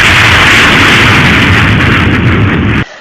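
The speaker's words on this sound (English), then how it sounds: "it is audible as a sonic boom." A supersonic aircraft's sonic boom arrives as a loud, sustained rumbling roar that fills the moment and then cuts off abruptly near the end, with no talking.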